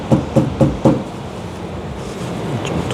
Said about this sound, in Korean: 망치로 원단 좀 두드릴게요.